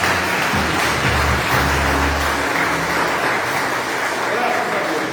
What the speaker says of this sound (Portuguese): Dê para ele uma linda e forte salva de palmas.